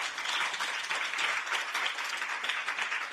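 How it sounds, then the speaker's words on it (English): Audience applause at a conference on asylum governance: sustained, dense clapping from a seated crowd at steady moderate level, with no voices over it. "How about a round of applause for our Commission representatives?"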